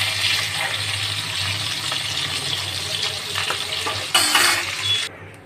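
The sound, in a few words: fish frying in oil in a pan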